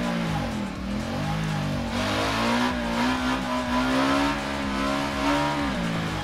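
A Ducati Diavel motorcycle of over 1000 cc in the racing game Ride 3 revs loudly and continuously, its engine note rising and falling as it pulls through the gears, with no talk over it.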